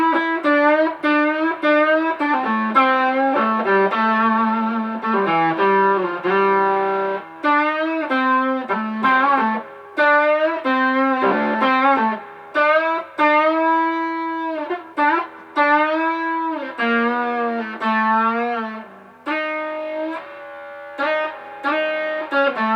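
A sustained, saturated guitar through a transistor fuzz pedal plays a melodic line with long ringing notes, the tone thick and fuzzy with a wash of echoing reverb.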